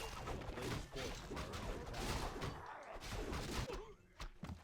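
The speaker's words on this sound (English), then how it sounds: "The explosion kills the last peasant." An explosion goes off in a Warcraft III Orc versus Night Elf league match and kills a peasant. Dense thuds and crashes from the game mix with battle noise, and several sharp impacts stand out toward the end.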